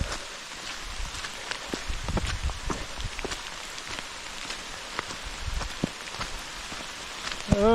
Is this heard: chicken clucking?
no